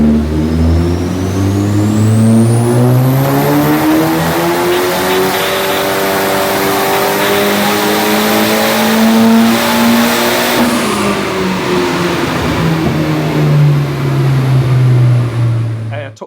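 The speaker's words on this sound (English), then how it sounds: "We took both the cars to the same rolling road." A Ford Sierra Sapphire Cosworth revs hard on a rolling road dyno, its engine climbing in pitch through the gears to a high, loud scream, then dropping away as it winds down, close up with a voice talking over it.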